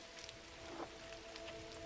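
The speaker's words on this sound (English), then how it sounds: "Oh, it's raining" Light, steady rain in the video game Gris patters softly on a surface, a quiet even hiss with a faint tonal hum running beneath it.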